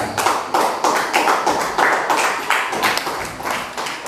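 A student group in a classroom gets a round of applause from classmates, sharp overlapping claps in an uneven rhythm that swell and fade across the few seconds, close and fairly loud.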